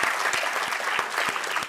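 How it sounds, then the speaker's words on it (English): A burst of audience applause during an Oscar nominations announcement for visual effects, a thick even wash of many clapping hands with a few louder nearby claps, heard alone and fairly close. "notice how Godzilla Minus One got the loudest applause"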